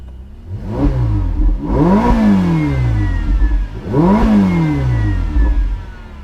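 A 2016 Ferrari 488 GTB engine revs twice, each blip rising sharply then falling away smoothly, loud and close, with a mechanical idle between the revs and no talking.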